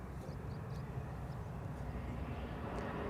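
A KLM airliner arriving from Zurich at Amsterdam Schiphol Airport, its engines a low, distant, steady rumble with faint hiss, heard from afar and fairly quiet.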